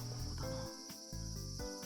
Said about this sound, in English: Cicada noises.